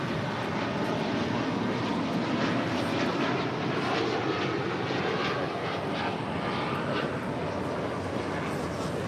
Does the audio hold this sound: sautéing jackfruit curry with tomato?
no